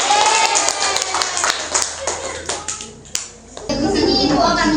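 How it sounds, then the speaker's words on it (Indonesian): A grade 3 elementary class gives a short round of scattered, uneven clapping that rises and fades over a few seconds, partly under a teacher's voice. "Kita berikan tepukan yang meriah"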